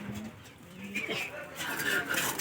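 A pair of pet pigeons coo softly nearby, low throaty calls over some chirping and a talking voice.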